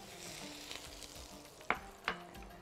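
Butter melting in a hot pan for a mint cream pasta sauce gives a faint, steady sizzle, with two sharp clinks of utensil on pan near the end.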